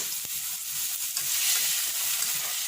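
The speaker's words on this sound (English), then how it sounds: "Give that a little stir" Tomatoes, green pepper and a little hot pepper sizzle in a pan for Jamaican ackee and saltfish, a steady close frying hiss with soft stirring scrapes running throughout.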